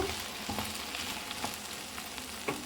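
Okra (ladies finger) frying in oil in a pan, seasoned with turmeric and salt, giving a continuous close, dense sizzle with a few soft stirring taps.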